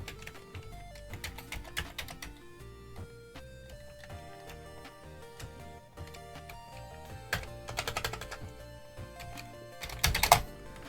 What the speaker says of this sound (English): we can test the keyboard works